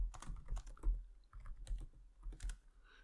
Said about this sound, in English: And then type it in again.